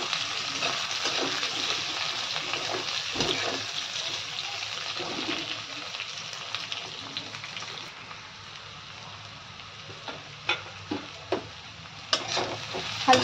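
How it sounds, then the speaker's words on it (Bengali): Chopped onions frying lightly in a pan give off a soft, steady sizzle, with occasional stirring scrapes and a few sharper clinks toward the end, fairly quiet and without speech. "কেটে রাখা পেঁয়াজগুলো ভেজে নেব"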